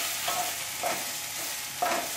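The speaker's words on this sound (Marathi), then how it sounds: "आता यामध्ये आपण आलं लसूण घालूया. हे सुद्धा आपल्याला चांगलं परतून घ्यायचं आहे." Ginger and garlic sauté in a pan with a dense, steady hiss. Three light scraping stirs arrive at a regular pace, close and without talk.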